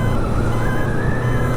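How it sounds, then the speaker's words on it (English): A 1978 Honda CB550F motorcycle's turn-signal reminder sounds as a steady high electronic tone heard while riding, under continuous road and engine noise. "safety feature at the time to let you know that your turn signal was still on"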